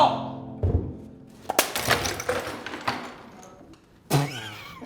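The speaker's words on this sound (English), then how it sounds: "It's sugar glass." A sugar glass prop breaks on a film set, with a heavy thud followed by brittle crashing and clattering fragments, close and fairly loud, with a voice calling out near the end.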